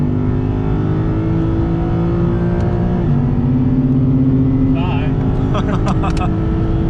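A Track Edition RC F works around the Nürburgring GP circuit, its engine droning steadily in the cabin with the pitch stepping down near the midpoint, while a few faint voices and brief squeaks drift over the constant roar.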